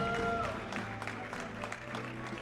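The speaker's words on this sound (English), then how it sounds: "please make some noise for FlyQuest, J-Mook." Crowd applause and cheering at the Platfight Gaming Championships 2024 awards, a steady wash of clapping with some voices, moderately loud and continuous throughout, with a faint tonal hum in the hall.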